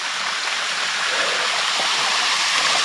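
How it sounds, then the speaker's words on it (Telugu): Vempalli waterfall in the Rayalaseema forest rushes in a steady, dense roar of falling water, close and unbroken, swelling slightly toward the end with no voices over it. "మనం వాటర్ ఫాల్ దగ్గరికి అయితే చేరుకున్నాము"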